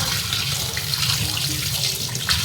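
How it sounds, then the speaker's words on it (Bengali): Fish being washed under a running kitchen tap: a steady, close rush of water splashing into a sink, with small sloshing variations and no talking. "আর এই মাছগুলো এখন ধুয়ে একটুখানি মোটামুটি ধুয়ে রাখবো"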